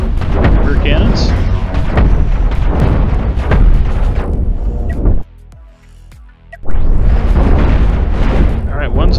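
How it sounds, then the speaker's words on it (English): Spaceship cannons in the space game Cosmoteer fire in a heavy barrage of loud, overlapping booms and blasts, broken by a brief quiet gap before another dense volley erupts. "Have both ships fire at their rear cannons."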